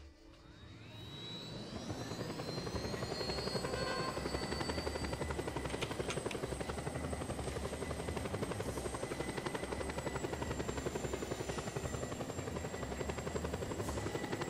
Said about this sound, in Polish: No, ale to jest piękny helikopter.